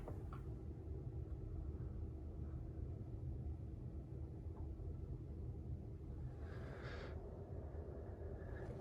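Car audio amplifier softly driving subwoofers with a Striker 955, a dense, constant low bass rumble filling the space without pause, a brief brighter burst near the end, no talking.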